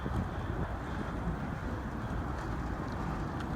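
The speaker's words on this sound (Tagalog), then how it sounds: "Parang nililipad ako ng hangin." Strong wind buffets the microphone in a constant low roar, with no voices.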